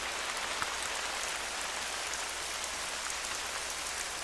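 Steady rain falls in theHunter: Call of the Wild, a dense, even hiss of drops on the ground that continues unbroken with no voices.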